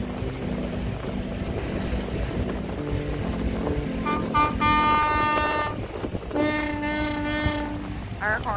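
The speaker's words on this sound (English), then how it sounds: "Our horn sounds like it's dying." A tour boat's horn off the Santorini coastline sounds in two long, somewhat weak blasts over engine rumble, wind and water noise.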